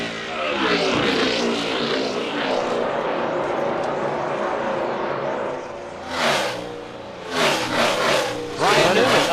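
NASCAR Cup Series stock cars racing on the long pond straightaway off turn 1 at the white-flag final lap, a loud continuous engine roar with several sharper passes surging near the end.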